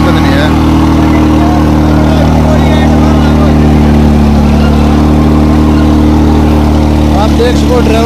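A 2001 New Holland tractor engine runs steadily at a constant idle, a loud, even low rumble throughout, with people talking over it.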